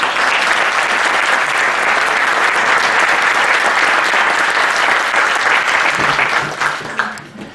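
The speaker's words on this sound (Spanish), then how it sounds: "le pido un fuerte aplauso" Loud, dense applause from an audience welcomes a speaker at a university poetry recital, sustained evenly before tapering off in the last second.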